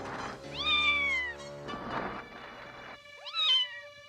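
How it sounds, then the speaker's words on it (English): Cartoon cat from He-Man, one bigger and scarier than the small green tiger cub, gives two drawn-out, rising-and-falling meows or snarling yowls with a pause between them, loud and close over a low background score. "he saves his life from a bigger, scarier cat"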